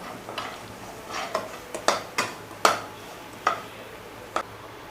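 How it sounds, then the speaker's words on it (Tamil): Semolina roasting in ghee for Chettinad ukkarai sweet: a spoon scrapes and clicks against the pan in a loose rhythm of crisp strokes, close-up, over a faint sizzle and no voices. "இப்போ அதே நெய்யிலேயே நம்ம எடுத்து வச்சுருக்க ரவையை சேர்த்து நல்லா பொன்னிறமாக வர்ற வரைக்கும் வறுத்துக்கலாம்"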